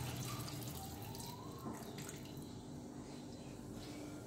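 Water is poured into a pot of rice while a vegetable pulao cooks, a steady, faint trickling and sizzle that runs through the whole clip with no talking.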